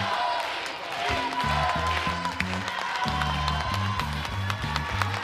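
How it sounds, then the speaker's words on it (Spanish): An audience at a circus applauds to welcome a dentist, mixed with a punchy bass-heavy music cue and some voices. The clapping is moderately loud and continuous for about five seconds. "Sí, lo vamos a llamar con un fuerte aplauso."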